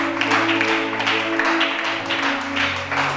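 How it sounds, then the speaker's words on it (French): Applause from an assembly audience at a French-speaking Christian gathering, steady, dense clapping over sustained organ or keyboard tones throughout. "Acclamez Shana."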